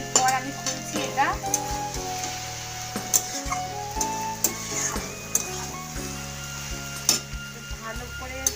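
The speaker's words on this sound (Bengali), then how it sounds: "আমি এটা এখন খুলবো ঢাকাটা, একটু নাড়িয়ে দেবো।" A fish-head and cabbage curry sizzles in an uncovered pan as a spoon scrapes and stirs through it in irregular strokes, close and clear over continuous frying crackle, with no voices.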